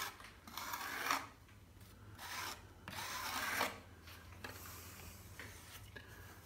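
White-set cornice cement being shaped and smoothed on a ceiling cornice during room restoration, a few slow rasping rubbing strokes in bursts, close and moderately quiet, without talking.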